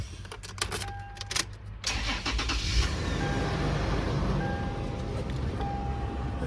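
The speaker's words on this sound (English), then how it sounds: "Let's go ahead and start it up." A Toyota 4Runner SR5 2WD cranks with a few clicks and a short starter whir, then its engine catches and settles into a steady, close idle rumble.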